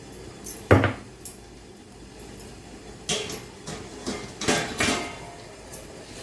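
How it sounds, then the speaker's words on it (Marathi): A metal lid or plate is lifted off a pot used to steam modak, giving a sharp clank followed by several lighter clinks and knocks of metal on metal, close by in a quiet kitchen. "दहा मिनिट झालेले आहे आपण याचं झाकण काढूया"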